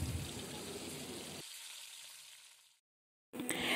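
Chicken pieces frying in oil in a pan give a bright, steady sizzle that thins out and fades to near silence, then bursts back loud for a moment at the end.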